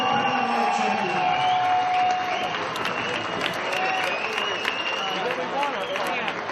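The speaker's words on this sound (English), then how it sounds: "The big round of applause for Gerpaul Valero from the Philippines." Applause and scattered cheers from a boxing crowd fill the arena steadily, with a ring announcer's voice carrying over the clapping.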